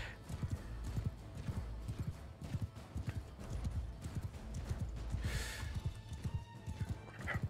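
Hooves pound in a quick gallop rhythm in Mount and Blade: Bannerlord, close and insistent, with a sharp horse neigh breaking through midway over a busy battle din.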